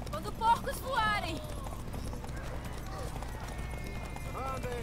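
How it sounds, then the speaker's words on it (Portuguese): Horses gallop in The Witcher 3 with steady clip-clop hoofbeats, a brief neigh and game sound effects mixed in, all running under ongoing talk. "Montem seus cavalos."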